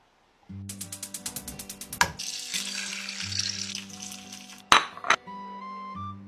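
An egg fries loudly in a pan with a steady close sizzle, opening with a rapid series of clinks and taps, then a couple of sharp metallic knocks near the end.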